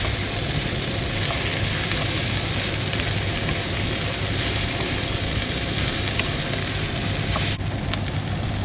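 Vegetables stir frying in a pan, a steady loud sizzle that runs throughout with a constant low hum beneath it, no talking.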